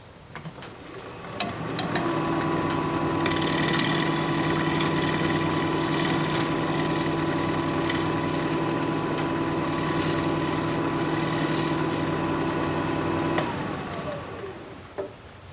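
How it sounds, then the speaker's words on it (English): A wood lathe spinning in reverse at about 300 RPM, turning yew, gives a steady mechanical hum that starts up and runs evenly for several seconds with a constant whirring tone, then winds down near the end. "The lathe will be spinning in reverse at about 300 RPM."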